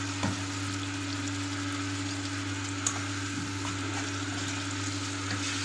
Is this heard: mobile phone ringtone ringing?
no